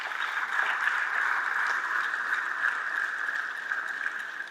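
Applause rises at a morning television show gathering, a steady and fairly faint spread of clapping heard from a distance, with no talk over it.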